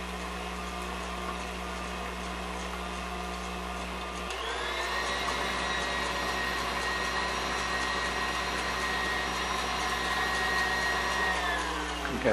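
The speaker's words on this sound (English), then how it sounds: "Of course, you can use a hand mixer to do this." Electric hand mixer whipping in a bowl while making manicotti filling, a steady loud motorized whir that rises in pitch and intensity partway through and runs continuously with no talking.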